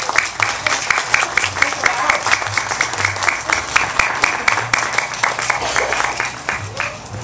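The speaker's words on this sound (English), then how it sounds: "Let's give them a round of applause." Applause for student poetry readers at an outdoor book and music festival in Hawaii, many hands clapping in a lively, crisp rhythm, with murmuring voices underneath throughout.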